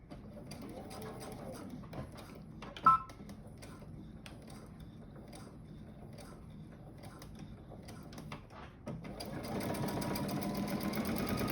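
A sewing machine back stitching a seam runs in a rapid, steady mechanical patter. It pauses briefly and then speeds up into a louder, denser stretch near the end, with no talking.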